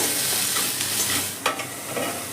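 Tomato sizzles in a frying pan for a vegetarian capsicum and chhana dish as a spoon stirs it, a close steady frying hiss with a few soft scraping knocks and no talking.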